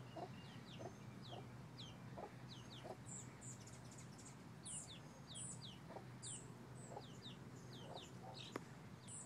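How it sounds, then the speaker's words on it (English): A hen clucks softly and repeatedly to her chicks while they peep in quick, high chirps throughout, outdoors in a yard, all faint against a low background hum. "She's apparently clucking to them."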